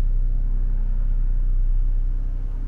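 A 2018 Porsche Panamera 4 on a test drive gives a steady, low rumbling engine and road drone heard from inside the cabin, constant and fairly loud with no talking.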